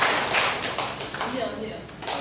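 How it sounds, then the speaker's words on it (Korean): A church congregation applauds, a dense wash of many hands clapping together at moderate loudness throughout, with a voice speaking faintly beneath the applause. "크게 박수 쳐주시기 바랍니다."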